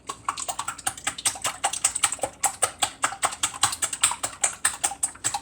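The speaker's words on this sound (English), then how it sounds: "we have 6 eggs, and we'll whisk them up" Six eggs being whisked in a bowl, a fast, even run of crisp clicking taps close by, steady rhythm throughout with no talking.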